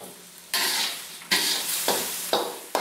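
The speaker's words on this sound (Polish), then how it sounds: "Mieszając smażymy, aż się zarumienią i zmiękną." Seafood sizzles and hisses in a hot wok, flaring up in four loud bursts as it is stirred and tossed, with no talking.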